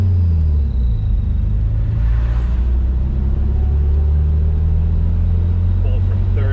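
A 1968 MG C GT engine pulls strongly from third gear, giving a steady, loud low rumble heard from inside the car, with a faint voice underneath.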